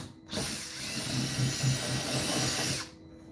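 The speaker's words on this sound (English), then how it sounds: "Drilling into acrylic is not a fun thing." A power drill bores into an acrylic PC case panel in one continuous, loud, close whine lasting a few seconds, with a rough grinding undertone, then stops abruptly.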